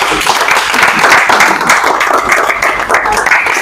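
An audience at an NGO's annual review event claps in a dense, loud burst of applause that holds steady for a few seconds.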